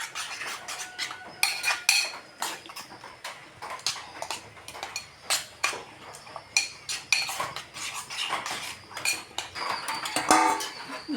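Three eggs beaten in a bowl with a fork or spoon, giving rapid clinking strikes against the bowl that come in bursts with short pauses, close and fairly loud, with no voices.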